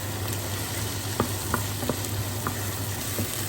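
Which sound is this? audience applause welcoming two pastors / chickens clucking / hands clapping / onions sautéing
onions sautéing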